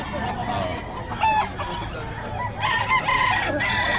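Roosters and chickens for sale at a market in Bocaue, with two crows rising in turn and clucking over a busy background of crowd chatter.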